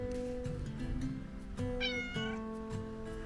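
A cat gives a short, faint meow at a van parked in Portugal, heard over a steady background hum.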